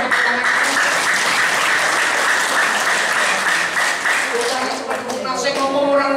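A business seminar audience breaks into sustained applause, a dense wash of clapping that swells and then tapers slightly near the end.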